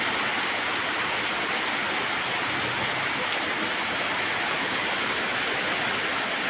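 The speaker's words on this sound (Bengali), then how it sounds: "কিন্তু সেই বৃষ্টি নামছে" Heavy rain pours down steadily where work on a large vehicle is underway, forming a dense, even wash of hiss that fills the whole stretch without voices.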